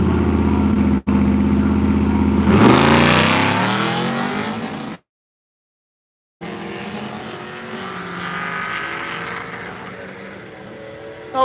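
A drag racing car roars down the track at a Miles of Mayhem event, its loud engine rising in pitch as it accelerates. The sound cuts to silence briefly, then the distant engine drone returns.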